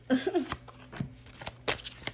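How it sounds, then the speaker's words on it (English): Indigo Angel Oracle cards shuffled by hand: a string of quick riffling and tapping bursts close up, uneven in rhythm, with faint speech in the background. "Now I want to shuffle for the collective."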